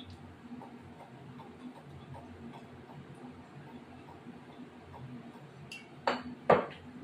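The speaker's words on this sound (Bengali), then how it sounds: "এবার আমি তেল দিলাম প্যানে।" Pans and utensils clink softly on a stove as oil goes into a pan for cooking, with faint ticking taps over a low hum and two sharper metallic clatters near the end.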